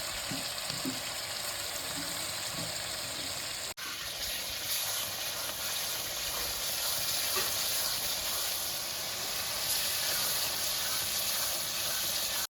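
Garlic dropped into hot oil with frying onion for chicken heart fry: a loud steady sizzle and hiss with a brief sharp break, then continued bubbling frying close by, with no talking.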